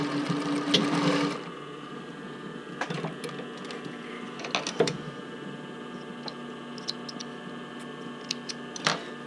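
A sewing machine stitches a bra band, with a dense burst of motor whir at the start, then quieter mechanical ticks and clicks from the machine between short runs.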